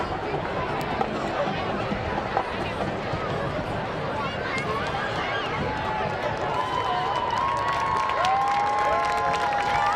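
A large homecoming football crowd applauds and cheers for the Davison Cardinal Marching Band, a dense, continuous wash of clapping and shouting with occasional whistles near the end, with speech mixed in.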